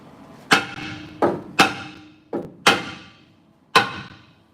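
Six sharp metallic smacks of a hammer on a brake drum, each ringing briefly, struck at an uneven pace close by.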